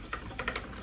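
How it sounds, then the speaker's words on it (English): A brief burst of light, quick rattling clicks from a rattling bobbin on a spinning wheel, fairly faint and close, with a few irregular taps over a quiet background. "I got one of my rattly bobbins today."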